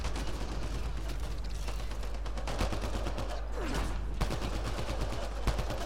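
Rapid bursts of gunfire from Mass Effect Andromeda multiplayer combat, with dense overlapping shots crackling steadily under a busy mechanical game mix, no speech heard.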